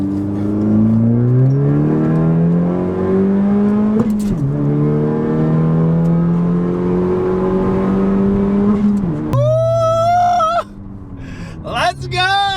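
Car engine pulling hard through the gears with rising and falling revs and clear shift breaks, fitted with an Acuity short shifter and ESCO T6 knob, loud and close, ending in a higher whining rev with short bursts.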